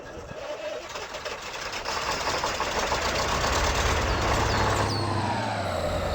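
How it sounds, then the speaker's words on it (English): Diesel truck engine from a Cummins-powered Ram mod in the off-road driving game Spintires, a steady loud rumbling drone that swells slightly and holds continuously with no talk. "See, now it sounds like a diesel"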